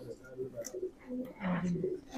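A racing pigeon coos softly while being handled at a long-distance pigeon race, with low cooing notes close by and people talking in the background.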